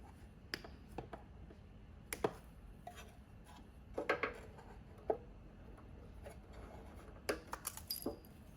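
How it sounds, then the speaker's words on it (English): Cutters snip wire ties on a BMW R18B motorcycle, producing a scattered series of short, sharp, faint clicks against a quiet background. "So we'll snip off our wire ties here"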